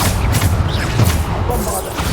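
Bombarda explosion spell blasts in Hogwarts Legacy, a rough rumbling burst of booms with crackling debris, loud and close, rolling on for a couple of seconds amid other combat noise.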